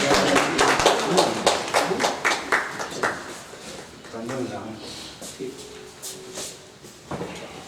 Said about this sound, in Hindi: ज़ोरदार तालियों से आप उनका इस्तकबाल।